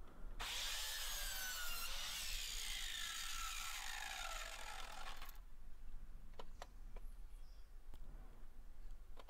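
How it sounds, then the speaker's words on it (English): Mitre saw cutting a 30 degree angle in wood for a robin nesting box: one sustained loud whining cut lasting several seconds, then the blade spinning down, followed by quieter bumps and clicks. "So I set my mitre saw to 30 degrees."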